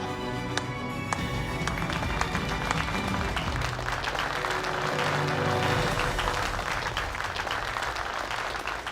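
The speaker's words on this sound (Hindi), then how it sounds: "जोरदार तालियों से इनका हौसला बढ़ाइए।" Audience at a large party breaking into loud, sustained applause, a dense steady wash of clapping that holds at full strength for the whole stretch.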